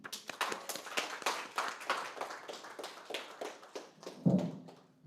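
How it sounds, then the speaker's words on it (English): A modest audience at an ecommerce business presentation gives a round of applause, claps of uneven rhythm rising and falling before fading out. "let's give a big, loud round of applause for Mr. Nelson"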